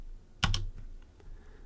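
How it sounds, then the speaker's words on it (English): A computer keyboard is tapped with two quick close keystrokes followed by a few faint lighter taps in a quiet room. "And now we're typing the curly brackets."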